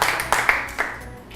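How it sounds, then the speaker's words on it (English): A few sharp hand claps from students in a classroom, spaced unevenly over about a second, close and fairly loud with no talk. "Okay, clap your hands."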